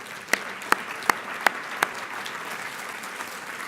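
A summit luncheon audience applauds award winners with steady crowd clapping, punctuated by five sharp, loud nearby claps at regular intervals early on.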